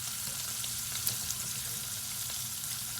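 A ribeye steak sizzles steadily in a hot pan during basting, with dense, even frying hiss and occasional small crackles and pops, close and continuous with no talking.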